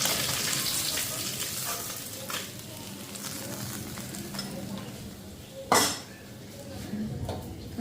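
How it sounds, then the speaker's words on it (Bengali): Potato and eggplant frying in oil in a pan sizzle steadily at close range, with stirring scrapes and one sharp clatter of utensil on pan. "এখন এই তেলের মধ্যে আলু আর বেগুনটা ভাজা করে নেব।"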